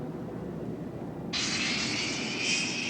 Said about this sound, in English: As Ron taxis towards the cluster of planes on the bow